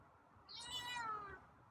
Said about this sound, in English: there's a meow